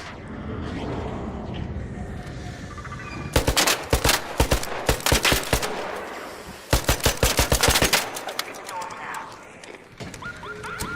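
Bursts of rapid video game gunfire crackle in two clusters, with horse hooves clip-clopping and a neighing horse heard in the scene and a person talking between the volleys.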